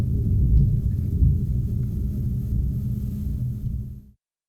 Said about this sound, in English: there is a raging thunderstorm going on